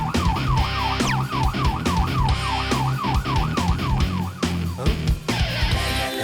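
A cartoon fire brigade siren wails in a fast, rising-and-falling cycle, loud and near, over a steady engine-like rumble and rhythmic thumps, with no talking.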